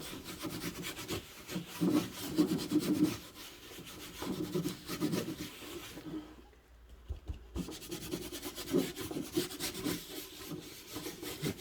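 A brush or applicator scuffs a vintage plaster finish with raw umber tint across a surface, soft close rubbing and scratching strokes in irregular bursts with a brief quiet pause midway.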